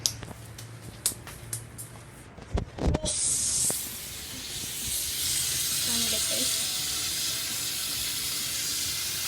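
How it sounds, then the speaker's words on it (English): Hands being washed at a kitchen sink: a few knocks and handling clicks, then a tap opens and water runs in a steady hiss, close and continuous. "first I'm going to wash my hands"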